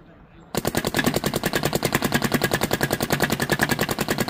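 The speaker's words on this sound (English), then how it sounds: "shooting the nice pink shell 5-star paint." After a short quiet start, a paintball gun fires pink-shell 5-star paintballs in rapid, loud, evenly spaced bursts that go on without a break to the end.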